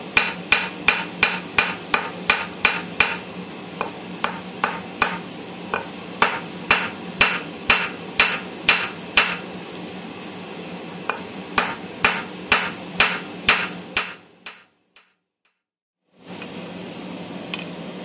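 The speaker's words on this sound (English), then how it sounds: "You want to forge it into a square and then taper." Sharp metallic hammer blows ring out close and loud in steady bursts as a blacksmith forges a tanged arrowhead, squaring and tapering the stock on an anvil, followed by a brief silence and a faint hiss.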